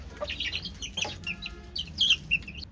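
Small, active chicks on a poultry farm cheep and cluck in scattered bursts, fairly close, with short sharp calls over a low steady hum and no talk.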